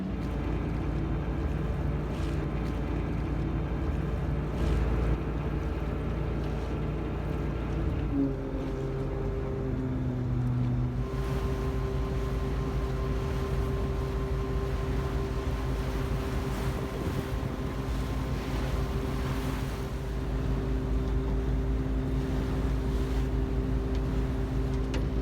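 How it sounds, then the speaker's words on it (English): Small passenger ferry crossing the water in Stockholm, its engine a steady low drone throughout with wind buffeting the microphone and water washing around the hull, no talk. "We're going to take a little ferry ride across the water."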